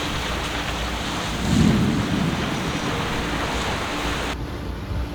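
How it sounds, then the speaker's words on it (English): A thunderstorm with rain at sea near St Lucia, heard from a sailing boat: steady rain and wind hiss throughout, with one deep, close rumble of thunder swelling early and fading back into the downpour. "It looks like it's an actual storm, not just wind"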